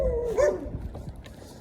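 Dogs bark and yelp outdoors at moderate distance, a few rising cries over a steady low background rumble, faint and brief.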